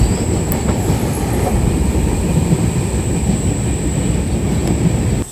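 The Dadar–Ratnagiri Jan Shatabdi Express rumbles steadily along the tracks near Roha station, loud and continuous, with a dense low roar, faint clatter and a thin high whine throughout.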